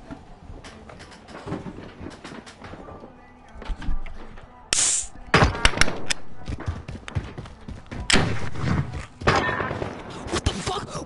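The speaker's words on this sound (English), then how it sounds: "I forgot to take my gun off burst." Several sharp, loud burst-fire gunshots in the video game Call of Duty: Modern Warfare crack out in separate clusters, with people talking in between and underneath.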